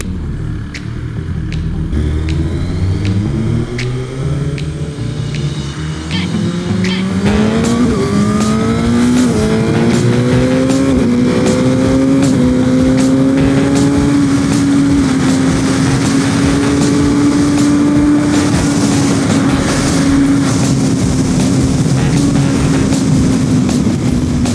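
Suzuki GSX-R 1000R sportbike on a race circuit, its loud engine revving and rising in pitch through the gears, sustained and close, with a steady high whine carried throughout.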